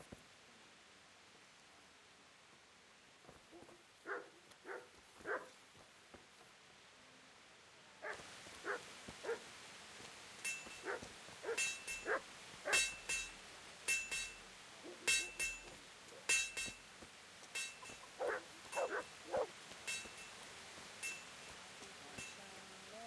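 A dog barks in the Kingdom Come Deliverance video game, a series of short sharp barks coming in irregular bursts at moderate distance over a quiet hiss, with faint clinks and rustling and no voices.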